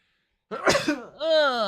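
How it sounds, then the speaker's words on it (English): A single close, sudden sneeze from a person, a short sharp burst followed by a brief voiced exhale. "I had to sneeze."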